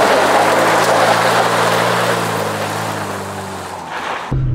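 An old junker car engine floored in third gear while running on tequila, a loud, steady roar with a sustained low drone that eases slightly before cutting off near the end.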